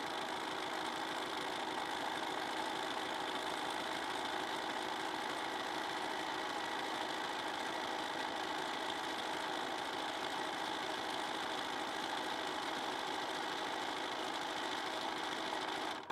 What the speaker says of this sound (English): And then I sew. And this takes a while because it's a satin stitch.